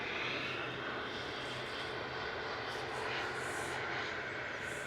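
A Qatar Airways heavy jet taxis out for departure at Manchester Airport, a steady distant engine roar with broad rushing noise, even in level throughout.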